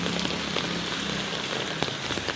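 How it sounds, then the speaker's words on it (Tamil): Heavy rain pouring down in Velachery, Chennai, a dense steady hiss of drops striking surfaces nearby, with no voices. "இதே மழை கண்டினியூ ஆச்சுன்னா ஒன்றும் பண்ண முடியாது"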